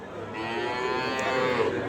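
Sahiwal cattle at a livestock market give a long, sustained moo, loud and close, holding steady for about two seconds with rich harmonic tone.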